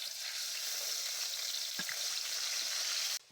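Garlic and onion paste sizzles in oil inside a wok over a village clay stove for duck curry, a continuous close frying hiss with a couple of faint utensil knocks near the end.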